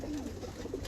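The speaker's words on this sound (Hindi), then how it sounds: "ये कबूतर है जो परफॉर्मेंस कर रहे हैं ना" Pigeons kept on a rooftop loft coo in a low, faint murmur, a few soft throaty notes rising from a steady background hum.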